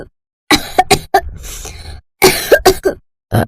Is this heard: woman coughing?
yes